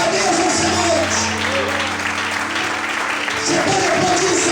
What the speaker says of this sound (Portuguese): Todos podem aplaudir e glorificar Deus nessa noite.